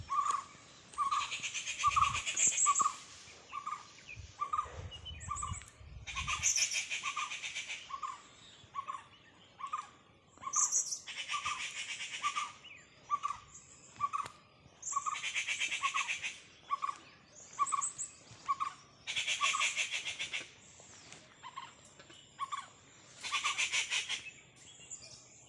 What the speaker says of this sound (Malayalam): കിളികളുടെ ചിലപ്പ് കേട്ടോ